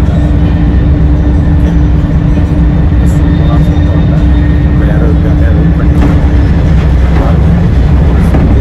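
Swiss high-speed electric bullet train running at about 314 km/h toward Paris: a steady, loud interior rumble with constant low-frequency roar and faint rail noise throughout, no clear voices.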